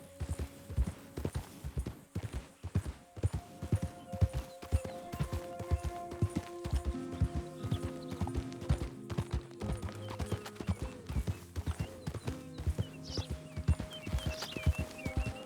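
A horse in a cowboy video game clip-clops along in a steady, continuous rhythm of hoofbeats, close and clear, with ambient music tones and occasional faint game sounds layered underneath.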